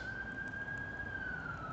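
An ambulance siren wails outside at a distance, one sustained tone sliding slowly downward, faint beneath a quiet indoor room hiss.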